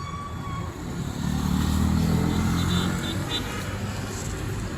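A red four-wheeled car overtaking a gas station queue, its engine rising to a broad rumble close by and then easing off as it passes.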